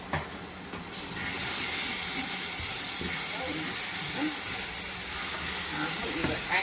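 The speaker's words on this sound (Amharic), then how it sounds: "አሁን እዚህ በዘይቷ ትንሽ ጠበስ አድርጌ" Food fries in hot oil in a pan for pasta with mushroom sauce, a loud, steady hiss and crackle that bursts in after a brief quieter moment and keeps sizzling close up without pause.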